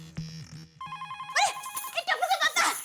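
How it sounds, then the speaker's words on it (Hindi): A telephone rings with a short electronic tone pattern, then a brighter repeated ringtone melody takes over and plays loudly in quick bursts, with a faint voice briefly at the start. "टप्पू का फोन आया।"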